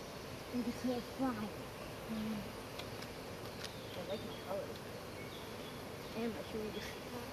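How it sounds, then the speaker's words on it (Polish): Honey bees buzz densely as they settle onto frames in a hive, with a constant swarm drone and occasional louder individual bees passing close; a person speaks briefly over it. "Jak widać, pszczoły obsiadają już."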